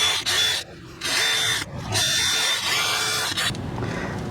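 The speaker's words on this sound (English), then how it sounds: "I'm just going to use that same little wire wheel on a drill and clean these bolts up." A wire wheel on a drill scrubs Lexus RX300 brake bolts in bursts, the motor whining up and cutting out several times at close range, with no voices.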